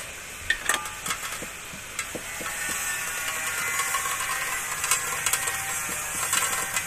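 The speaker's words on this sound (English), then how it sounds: "We have cornstarch and bulgogi. We're gonna mix them together in this strainer." Cornstarch and bulgogi are stirred together in a strainer, giving a gritty, scratchy scraping with scattered soft clicks and taps, close and steady, with no voices.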